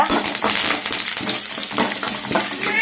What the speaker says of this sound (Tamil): எண்ணெய் சூடாயிடுச்சு நாம் கடுகு கடலப்பருப்பு உளுத்தம்பருப்பு போட்டுக்கலாம் கொஞ்சம் பொறிஞ்சு வந்ததுக்கப்புறம் நம்ம கருவேப்பில போட்டுக்கலாம்